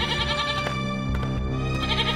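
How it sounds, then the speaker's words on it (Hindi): A goat tied up inside a village hut bleats loudly and repeatedly, its wavering cries running continuously and close over a busy background. "उसकी बकरी उसकी झोपड़ी में ही बंधी होती है और काफी चिल्ला रही होती है"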